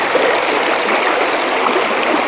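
A stream runs over rocks on a wooded rural property with mountain laurel and rhododendron, a steady close rushing and trickling wash with no voices.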